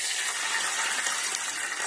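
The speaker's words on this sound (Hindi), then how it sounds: "अब हम इसमें डालेंगे 1 गिलास पानी" A glass of water pours into a hot pan of tempering with curry leaves for dhokla, making a steady hissing gush close up for a couple of seconds.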